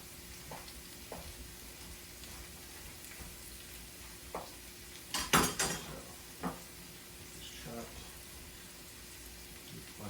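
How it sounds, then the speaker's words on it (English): Soft background sizzle of mushrooms frying in a pan, with a few sharp clatters and bursts midway, no talking. "Watching those sizzle."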